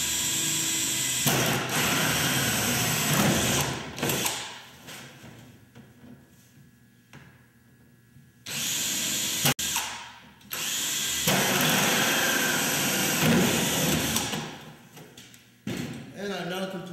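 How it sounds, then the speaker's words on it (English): Power drill bores staggered holes into a plastic composter bin in loud whirring bursts separated by pauses, close up, with brief stretches of quieter handling noise between runs. "take your drill, and begin doing your staggered holes for the second layer."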